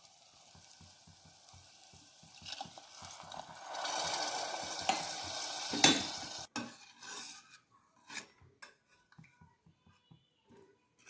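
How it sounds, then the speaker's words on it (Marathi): Moth beans sautéed in masala in a pan, with a sizzling, stirring hiss that builds to a louder burst mid-way, then gives way to scattered spoon scrapes and clinks against the pan. "थोडा वेळ मटकी ही मसाल्यामध्ये छान परतवून घ्यायची आहे"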